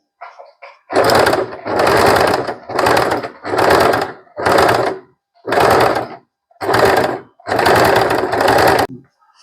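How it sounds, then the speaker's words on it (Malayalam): Sewing machine with a ruffler foot stitching frills, eight loud close bursts of rapid mechanical whirring, each about a second long, separated by short pauses, with faint clicks before the first run. "നമുക്കൊന്ന് സ്റ്റിച്ച് ചെയ്യാം."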